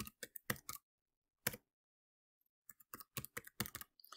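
A password being typed on a computer keyboard, close crisp key clicks in short irregular bursts, a pause of about a second and a half, then a quicker run of taps.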